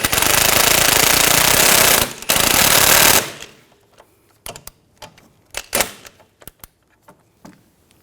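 A power tool, likely an impact wrench, drives a bolt on the rear upper control arm of a 2013-2019 Ford Escape: a loud sustained rattling burst, a short break, another burst, then scattered metallic clanks and taps close by.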